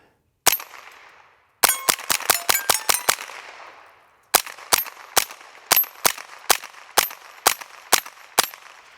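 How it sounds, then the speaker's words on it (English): A suppressed Smith & Wesson M&P 15-22 fires CCI rounds at metal targets: a single shot, then a quick string of about seven sharp cracks with ringing pings, a pause, then around ten more evenly spaced shots, close and crisp. "I'm still going to be shooting my suppressor. It's going to be a little bit louder, but not as quiet as the blue one."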